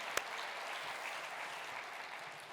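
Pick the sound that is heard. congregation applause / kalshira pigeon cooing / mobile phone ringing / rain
congregation applause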